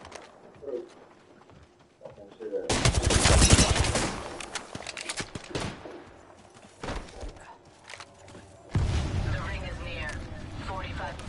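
Video game gunfire crackles in loud, rapid bursts that start abruptly and recur in waves, mixed with booms, while a voice talks over the action.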